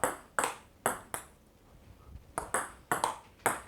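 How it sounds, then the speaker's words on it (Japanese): A table tennis ball is struck with topspin off a racket face angled at 45 degrees during solo drive practice. About eight sharp, bright pings sound close by in an uneven rhythm with short gaps and no talk. "ポーンってこの回転の影響で、ボールが返球されるので"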